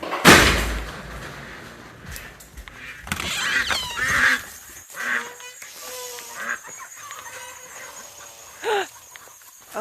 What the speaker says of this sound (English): Chickens and ducks are all going crazy.